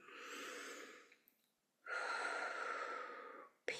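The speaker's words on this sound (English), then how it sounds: "deep breath in" A slow, deep inhaled breath, drawn in close to the microphone, then a pause and a second long, steady breath, both soft and airy with no talking.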